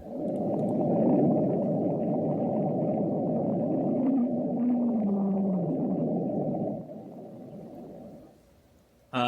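Sped-up underwater ocean recording nicknamed Julia: a loud, sustained low moaning drone with a gliding, voice-like tone rising and falling midway, alone without talk, fading out near the end.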